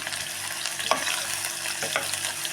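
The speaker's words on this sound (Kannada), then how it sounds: "ಸ್ವಲ್ಪ ಎಣ್ಣೆಯಲ್ಲಿ ಫ್ರೈ ಮಾಡ್ಕೊಬೇಕು ಇವಾಗೆ ಶುಂಠಿ ಬೆಳ್ಳುಳ್ಳಿ ಪೇಸ್ಟು ಹಾಕೊತಾ ಇದ್ದೀನಿ" Ginger garlic paste fries in a little oil with onion and green chilli, giving a close, continuous sizzle broken by a few stirring scrapes of a spoon against the pan.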